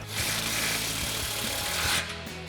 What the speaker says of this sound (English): So we'll grab our 15 mil socket on our impact and go ahead and snug this down now.